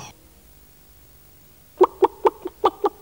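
Farmyard chicken clucking in a French TV advert for free-range poultry, a burst of about seven sharp, evenly spaced clucks near the end following a quiet stretch.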